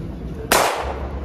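A single sharp gunshot rings out about halfway through, loud and close, its blast tailing off quickly into a quiet room with no one talking.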